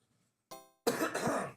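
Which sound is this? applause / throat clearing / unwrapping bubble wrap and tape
throat clearing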